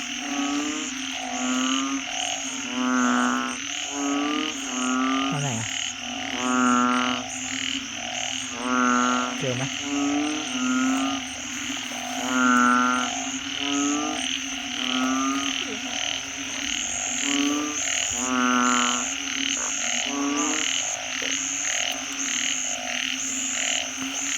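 Frogs croak in repeated rhythmic bursts, several calling near and far over a steady insect-like night chorus, with no talking.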